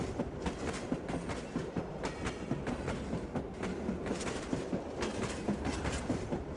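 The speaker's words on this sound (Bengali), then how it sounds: "ট্রেন ধীরে ধীরে গতি বাড়িয়ে স্টেশন ছাড়ছে।" A cartoon train slowly gathers speed as it leaves a station crowded with Eid travellers, giving a steady rhythmic clickety-clack of wheels on rails, fairly faint and continuous.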